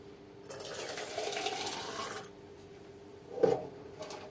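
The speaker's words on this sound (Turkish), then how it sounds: "Dolduruyoruz ve kavanozlara sıcak sıcak döküyoruz." Hot boiled peas with their cooking liquid poured into jars for canning: a soft, sustained liquid pour lasting a couple of seconds, then a short splash or clink, quiet and close.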